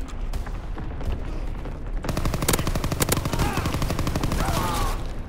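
Rapid gunfire in the Call of Duty WW2 multiplayer game, dense and loud, with quieter shots at first, then a sustained automatic burst and repeated shots packed close together for the rest of the stretch.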